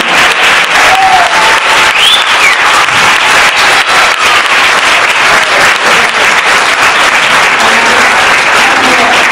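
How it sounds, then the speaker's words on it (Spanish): A circus audience bursts into strong, sustained applause, dense clapping filling the space steadily from start to finish with a faint crowd murmur underneath. "Un fort aplaudiment."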